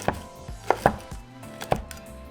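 A knife chops an avocado into small cubes on a board: four or five sharp, close taps at uneven intervals over a quiet background, with no talking.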